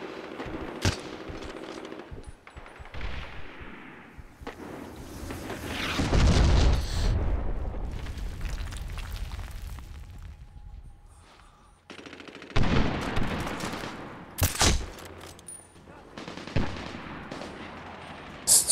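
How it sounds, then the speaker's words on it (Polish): Automatic gunfire and heavy bursts from a Somalia stronghold defense combat mission in Medal of Honor Warfighter, with repeated shots, booms and loud volleys clustering through the clip, intense around the middle and again near the end. "strzelam i strzelam z tej broni, nie jestem w stanie zabić nikogo."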